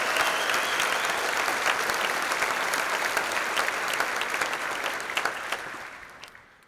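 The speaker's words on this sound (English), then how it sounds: "please join me in giving a huge round of applause to the Clio product team for all the incredible stuff they've shipped over the last year" A keynote audience applauds the Clio product team, sustained crowd clapping with crisp individual claps standing out, holding strong for several seconds before tapering off and fading at the end.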